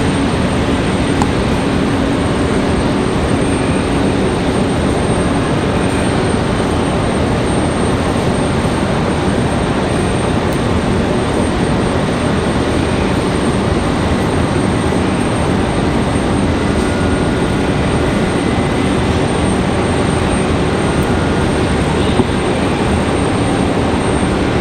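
Loud, sustained roar of an MD-11 trijet's engines during a heavy departure from Raleigh-Durham International Airport, a steady broadband rumble filling the whole stretch with no talking.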